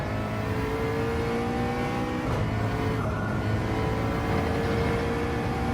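A race car engine in Gran Turismo 7 holds a steady, loud, high drone as it accelerates at high speed down a straightaway, unbroken for several seconds.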